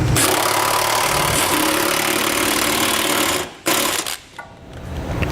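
A power tool with a 3/4 socket drives the front bolts of a Curt trailer hitch receiver on a 2015 Subaru Impreza, a loud continuous mechanical whir that cuts out briefly near the end, then resumes.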